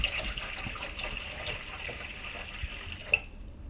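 Nutrient water being poured into an AeroGarden hydroponic reservoir makes a steady, close trickle and splash, fairly soft and continuous, with a small drip near the end.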